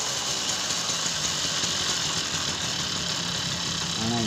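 An XL heavy duty truck engine with a clutch problem runs steadily at a constant idle, giving a continuous mid-pitched hum with faint knocking and vibration, heard alone without talk.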